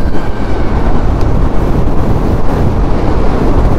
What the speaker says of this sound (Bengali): ওদিক থেকে যাচ্ছে সেই ট্রেন